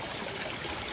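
Shallow clear water flows steadily over rocks, silt, leaves and sticks in a warm natural stream, a continuous soft rushing wash with no pauses.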